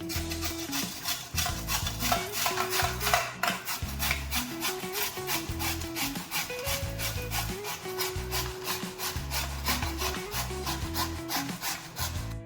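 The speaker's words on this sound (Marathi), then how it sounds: "आपल्याला अशा प्रकारे चाळण घ्यायची आहे आणि त्याने भोपळा आपल्याला खिसून घ्यायचा आहे" Pumpkin is grated against a sieve-grater in rapid rhythmic rasping strokes, close and continuous, a dry scraping texture repeating several times per second throughout.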